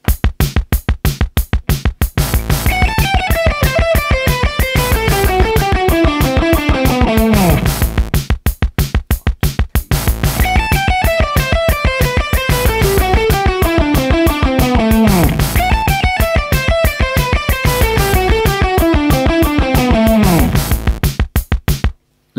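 A distorted electric guitar plays a fast shred lick at tempo 93 over a rapid, steady click track, repeating the phrase three times with descending runs, loud and continuous with no speech.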